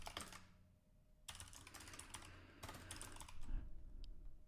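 Rapid, steady typing on a computer keyboard, dense runs of clattering keystrokes in two bursts split by a short pause, close and quiet with no speech.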